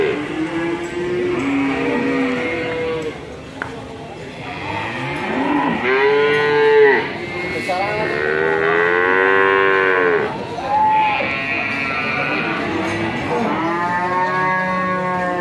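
Cattle at an Indonesian cow market moo loudly and repeatedly, long drawn-out bellowing calls from several animals overlapping and following one another, with no talking.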